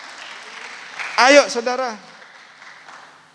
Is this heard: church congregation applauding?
yes